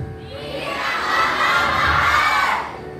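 A church congregation at an anniversary service shouts loudly in unison when asked, a broad crowd roar that swells over about three seconds, holds strong, then fades.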